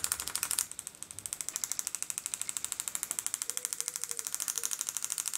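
Hand-held graver handpiece eased down to lower revs, giving a fast, even, rhythmic pulsing chatter that runs steadily throughout at fairly low level.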